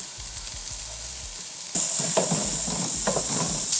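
Onions, garlic, pimentos and celery dropped into a hot pan: a quiet lead-in bursts into loud, steady close frying sizzle with light stirring scrapes, no talk.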